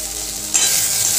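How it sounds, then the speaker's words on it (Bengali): Ginger, garlic and chilli paste frying in hot oil, a loud, close steady sizzle that swells suddenly midway as it is stirred. "আদা রসুনটা খুব ভালো মতো ভেজে নিয়েছি।"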